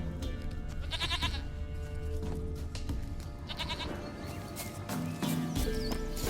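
A goat bleats in The Witcher 3, with several wavering bleats spread among in-game ambience and hoofed shuffling, moderately loud and without talking.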